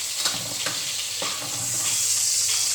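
Hotdogs frying in a pan while a mutton caldereta is being cooked, a steady crackling sizzle with a few soft stirring knocks, close and moderately loud, with no voices.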